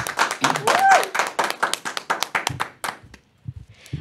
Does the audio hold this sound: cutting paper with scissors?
no